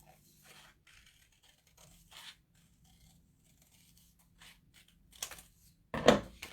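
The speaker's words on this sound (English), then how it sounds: "And now we're going to cut it out." Scissors cut out a paper heart in a series of quiet snips and scrapes, brief and intermittent, with a couple of louder crisp cuts near the end.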